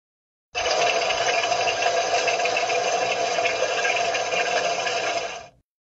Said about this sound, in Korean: 냉매 순환 사이클에 의해 오일 및 냉매가 흐르며 쉬, 졸졸졸 같은 소리가 날 수 있습니다